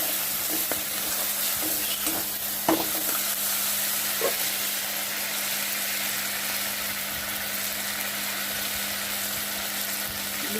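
Dried chilli and garlic paste sautéing in a pan for a Bengali fish curry, a loud steady close sizzle throughout with a few scrapes of a spatula near the start and a low hum underneath.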